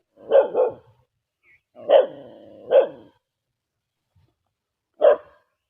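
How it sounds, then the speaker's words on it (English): A dog barks close by in short bursts: a quick double bark, a longer bark with a whine, another bark, a pause, then one final bark. "Lord, why is the dog barking so much?"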